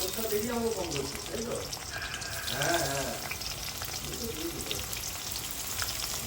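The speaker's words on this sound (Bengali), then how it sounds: "এখানে হচ্ছে পটল ভাজা" Sliced pointed gourd (potol) fries in a home kitchen pan, giving off a soft, steady sizzle beneath intermittent talking.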